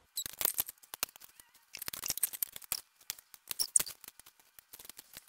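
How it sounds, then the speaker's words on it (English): Wire cutters snip repeatedly through aluminum TIG wire, producing sharp irregular clicks and ticks in bursts with short gaps, close and moderately quiet, with no talking. "take your wire cutters and cut on the lines that you marked"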